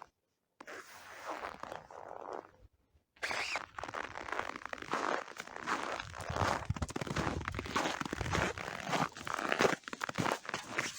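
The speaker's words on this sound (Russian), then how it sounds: "Под ногами хрустит снег." Footsteps crunch steadily through snow underfoot, a dense run of close crackling steps that starts after a brief pause and continues without talk.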